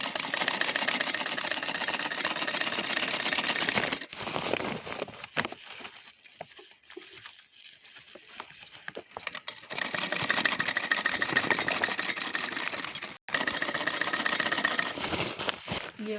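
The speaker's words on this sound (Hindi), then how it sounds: "अब इस तरह से हम सिलाई करेंगे।" A sewing machine stitches fabric at a corner seam in rapid whirring bursts, pausing briefly between runs, with a quieter gap in the middle before it speeds up again.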